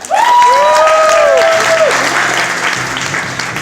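Loud audience applause at a stage performance event, a dense wash of clapping and crowd noise with a few whoops rising over it at the start, then settling into steady clapping.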